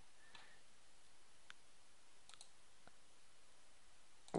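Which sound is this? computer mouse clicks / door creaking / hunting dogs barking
computer mouse clicks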